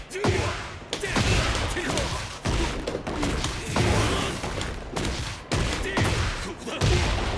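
A series of heavy, rapid impact hits sound out in Tekken 8, landing in repeated bursts of sharp thuds and crashes about every second.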